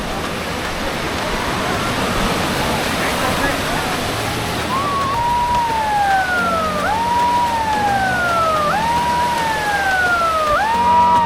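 A wailing no-swimming warning siren rises and falls repeatedly over steady crashing surf, with faint voices in the background at a windy beach in Udupi, India.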